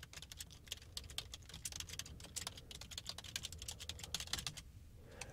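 Rapid, steady keystrokes on a computer keyboard while a WordPress post is written, close and clear, with no talking.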